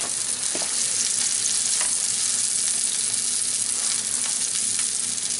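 Salmon fillets fry on a hot griddle plate over fairly high heat, a steady dense sizzle with faint crackles and small pops, close and continuous, with no voices.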